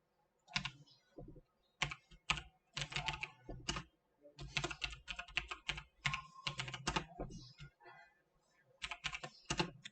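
Typing on a computer keyboard while entering a company name in Tally Prime accounting software: close, clear bursts of keystrokes in irregular flurries with short pauses, no voice.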